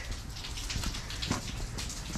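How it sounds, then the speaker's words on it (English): Steady rain falls outdoors while work is done on a 7.3 Powerstroke F250 Super Duty pickup, a soft continuous patter with scattered drop hits, moderately quiet and unbroken by talk. "I mentioned it's raining."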